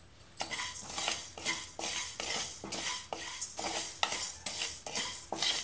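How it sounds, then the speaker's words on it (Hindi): Fenugreek, fennel seeds and cumin dry-roast in a pan while a spoon scrapes and stirs them in quick repeated strokes, a close, rhythmic scratching with faint sizzle between. "हमको ये मसाला बहुत ज़्यादा नहीं भूनना है"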